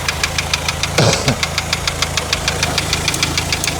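A hydrogen-assisted car engine runs with a steady, rapid knocking tick, loud and close, with a brief surge of rumble near the start before settling back into an even idle rhythm.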